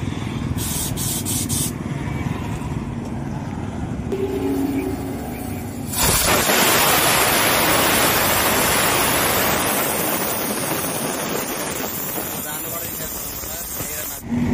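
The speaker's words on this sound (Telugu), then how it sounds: "గాలి తీస్తున్నాడు." Air rushes out of a truck tyre during a tyre change. After a few seconds of muffled workshop noise, a loud, broad, steady hiss starts and continues close by to the end, with some voices in the background.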